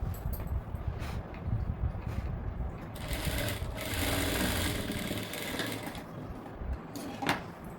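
Sewing machine running steadily while stitching a high-neck blouse, a continuous close mechanical whir with brief pauses and restarts as the fabric is fed.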